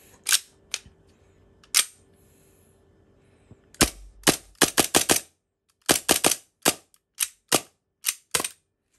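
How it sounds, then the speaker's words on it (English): An EMG Strike Industries Hi-Capa airsoft pistol is test fired up close: a few spaced sharp cracks, then a rapid run of about a dozen crisp snapping shots with short gaps between them. "我哋試下槍啦。"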